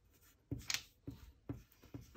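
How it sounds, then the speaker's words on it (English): Rubber eraser scrubbing pencil lines off drawing paper in a classroom art lesson, four short close rubbing bursts at an uneven rhythm. "very carefully erasing his pencil lines."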